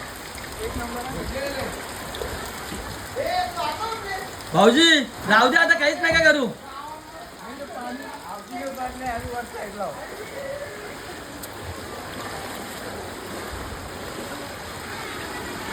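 Rainwater pours into a water tank during flooding, a continuous rushing wash of water heard beneath people talking nearby.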